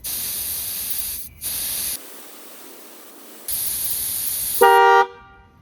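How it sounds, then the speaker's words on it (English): Air hisses out of a Mahindra BE 6 car tyre valve in loud, steady bursts separated by short pauses, ending with a brief tonal beep. "take a pin or something to release air, because the air might be hot inside."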